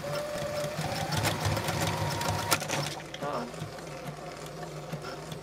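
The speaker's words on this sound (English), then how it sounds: "I'm going to zigzag stitch across that edge, just like I did with the other one." A sewing machine runs a zigzag stitch across the edge of a ribbon trim tutu, its steady close-up mechanical whir continuing for several seconds before easing slightly toward the end.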